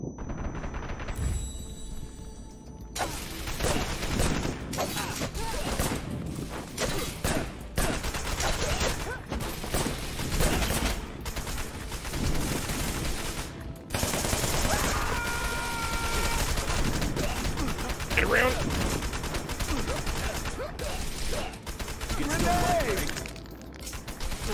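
Gunfire in the video game Wanted: Dead, with rapid bursts and sharp shots clustered through the clip alongside other game effects and shattering, with a voice speaking at points.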